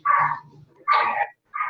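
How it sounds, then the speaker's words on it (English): Dogs bark in a residential neighborhood, with three short, loud, close yapping barks separated by brief pauses and a low murmur between them. "That's why the dog is barking."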